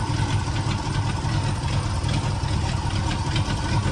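An old truck engine idles at a steady pace nearby, a rough low rumble with rhythmic pulsing and a slight uneven knock, running alone without talk.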